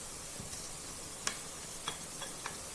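Garlic ginger paste fries with medium-browned onions for a beef karahi, a faint, steady sizzle with a few soft clicks and taps of stirring, alone and quiet.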